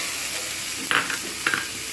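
Frying onions, tomato and ginger-garlic paste sizzle in a pan with a steady hiss. Two quick spatula strokes scrape through the spice paste, close and fairly soft.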